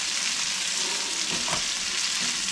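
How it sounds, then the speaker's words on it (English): Sausage and kidney beans with brown sugar sizzle steadily in a skillet, a continuous close frying hiss with a brief stirring scrape midway. "So we're going to stir this until the beans are hot and the brown sugar is absorbed."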